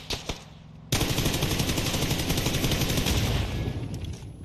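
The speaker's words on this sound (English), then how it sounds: "we got people shooting us in the back over here" Sustained automatic gunfire in a video game, loud and dense, bursting in abruptly after a couple of short shots and rattling on continuously to the end.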